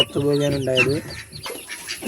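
Chickens on a home farm in Kerala, including a black Silky chick, give a burst of clucking calls in the first second, then quieter rustling and faint voices.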